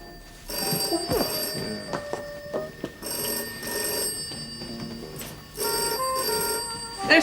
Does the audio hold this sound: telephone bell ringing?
yes